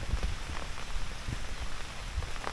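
Light rain patters steadily at a cold, windy mountain campsite at Marci's Point in Tanay, Rizal, during rainy season, a continuous soft hiss with faint irregular drops and no voices.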